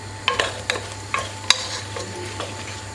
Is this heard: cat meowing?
no